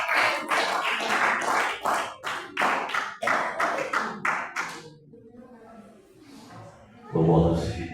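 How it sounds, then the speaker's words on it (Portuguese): A church congregation claps hands for Jesus in a strong, rhythmic pattern of sharp beats for several seconds during a worship service, then the clapping stops and a voice speaks over a quieter room. "E as palmas bem fortes, igreja, para Jesus"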